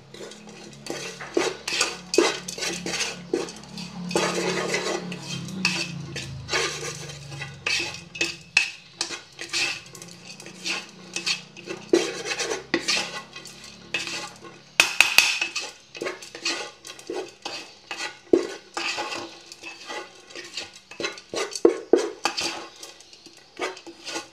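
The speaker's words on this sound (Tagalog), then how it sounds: "So, haluin muna natin." A spoon stirs and tosses a mixed vegetable salad made for African lovebirds in a bowl, producing a long run of close, irregular clinks and scrapes, with bursts of rapid tapping and no talking.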